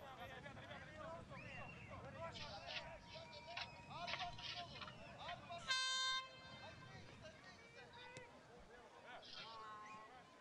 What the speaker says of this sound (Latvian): Mēs dzirdējām, ka noskanēja pirmā puslaika beigu signāls.